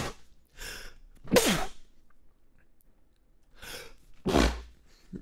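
Two sharp sneezes from one person, each with a quick inhale before it, spaced a few seconds apart, loud and close with quiet breathing between them.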